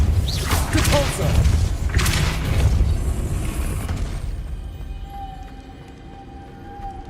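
Depulso force spells striking in Hogwarts Legacy, heavy thuds and booming whooshes over the first few seconds that fade into a quiet, low ambient hum with a faint tonal drone.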